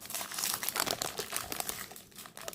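Crinkly plastic packaging of a Mini Brands miniature fridge toy is torn open by hand, giving a close, continuous run of crackling and rustling without any talk.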